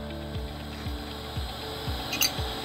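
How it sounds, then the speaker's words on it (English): A nut spins down the threaded shaft of a water pump, giving a regular series of five metallic ticks at even intervals, close and fairly quiet, with no talk. "Now we're gonna spin the nut back down."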